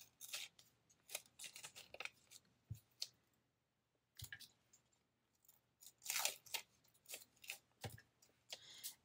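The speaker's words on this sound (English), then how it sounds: "I'm going to tear this one too" Paper being torn by hand for collage journal pages, heard as rough ripping bursts in irregular spurts with brief pauses and a few soft knocks, close and quiet, with no talking.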